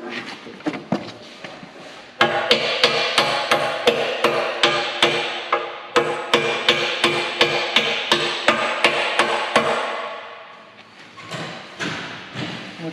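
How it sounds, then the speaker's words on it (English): Repeated hammer blows on steel blade parts while a new blade and C-frame go onto a Deere 650H dozer, a fast, even series of loud metallic strikes with short pauses and a brief stop near the end. "This is my hammer. Right there."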